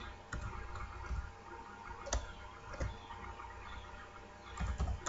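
Sparse clicks of a computer keyboard while code is typed, a few isolated keystrokes spaced irregularly over a quiet background, fairly faint and close.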